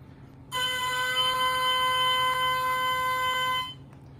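An oboe reed played on its own in a woodwind quintet demonstration gives a bright, buzzing, reedy crow, one steady sustained tone of about three seconds, loud and close.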